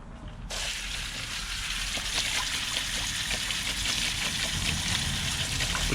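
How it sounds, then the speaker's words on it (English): Tap water running steadily while a bleached reverse-spiral tie-dye t-shirt is rinsed out, a continuous gushing splash that starts abruptly and stays even throughout, with no talking. "Rinsing out another t-shirt."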